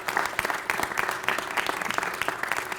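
A crowd at a public funding announcement for a Huntington program gives a round of applause, steady fast clapping from many hands at moderate distance, without talk over it.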